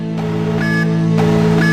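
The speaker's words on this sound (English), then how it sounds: "sound the alarm!" A loud electronic alarm sound effect sounds alone, with sustained tones and a repeating rising bleep that pulses about once per second.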